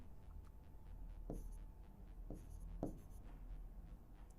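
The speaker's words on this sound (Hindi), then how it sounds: "तो यहां पे देखो मैं लिखता हूं" An equation written by hand, heard as faint, close scratchy strokes with a few sharper marks, in a quiet room with no talking.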